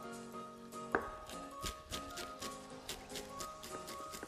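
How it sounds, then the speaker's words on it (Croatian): Knife chopping parsley on a cutting board in a home kitchen, heard as a sharp close tap followed by a steady run of lighter, irregular chops over a low background hum. "Možemo narezati peršin."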